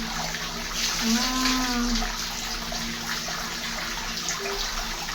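A child bathing splashes and stirs water in a tub, steady sloshing close by, while a voice cries out briefly with a rising tone partway through.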